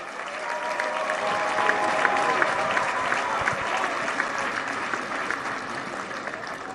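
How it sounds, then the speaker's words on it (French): Conference delegates in the DRC break into acclamation and applause, a dense, continuous roar of clapping with some crowd voices mixed in, loud and even throughout. "ça mérite beaucoup plus d'acclamation que ça"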